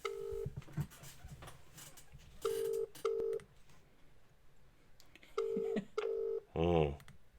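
Short electronic telephone dial tones beep in clusters, followed by a warbling phone ring, with brief talk in between.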